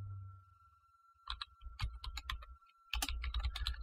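Typing on a computer keyboard while setting up a Dungeons and Dragons 5th edition campaign in Fantasy Grounds: bursts of quick, close key clicks separated by a quiet pause, with a faint steady hum underneath.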